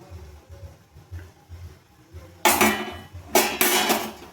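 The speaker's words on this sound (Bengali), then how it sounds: "এবার আমি ঢাকাটা খুলে দেখে নেব।" A lid comes off a cooking pot of egg dhokar dalna with two sharp metallic clanks close by, after a quiet stretch of low background hum.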